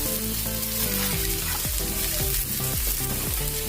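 Onions frying in hot oil with coarsely crushed garlic and cumin for a vagati bhaji and bitter greens curry, a loud, dense, continuous sizzle and crackle close up, with no voices.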